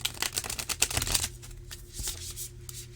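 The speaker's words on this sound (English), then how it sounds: "So we're going to riffle shuffle it again a few times." A matte-cardstock tarot deck, Jim Henson's Labyrinth Tarot, is riffle shuffled close up: a quick ruffling patter of flicking cards, then a softer settle as the halves are squared, with no voices.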